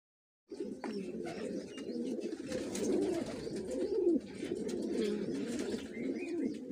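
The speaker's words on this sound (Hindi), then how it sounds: "तो आइए हम आपको छोटे छोटे परिंदों की वीडियो दिखाते हैं।" Pigeons coo softly and repeatedly among small birds inside a fancy bird farm, a dense, close, continuous murmur of low calls with occasional higher chirps.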